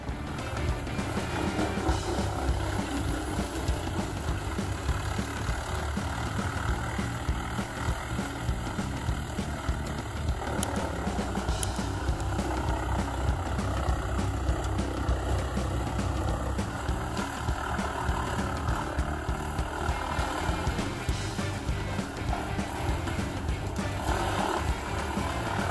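A wood chipper grinding raw wood into chips roars loudly and steadily throughout, a dense, unbroken wall of heavy engine and shredding noise with no pauses.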